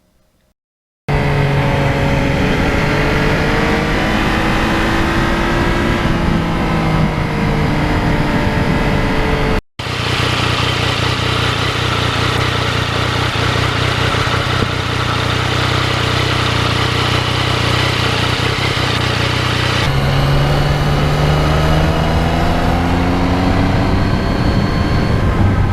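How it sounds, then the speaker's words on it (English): A 2020 Yamaha MT-09 motorcycle engine with the throttle opened: a loud, continuous engine note whose pitch climbs under acceleration, broken by a brief cut partway through, then resuming and pulling again. "What makes this bike fun to ride is the torque down low and the ability to just be in any gear and open that throttle."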